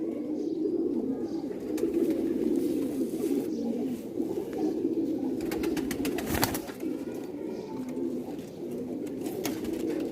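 Rare white-necked Sialkoti pigeons coo softly and continuously in a loft, with faint wing flutters and a few scattered clicks.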